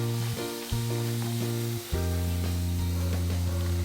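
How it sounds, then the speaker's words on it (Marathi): Mixed vegetable gharge frying in oil in a pan give off a continuous close sizzle and hiss, with a steady electrical-sounding hum running beneath and a brief dip before the frying surges again. "दोन्ही बाजूनी व्यवस्थित तळून घ्यायचे आहेत आपल्याला"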